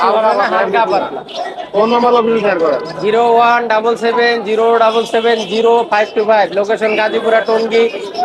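Doves cooing in repeated soft rounded calls amid dense bird chatter at a bird market, with people talking loudly over it throughout.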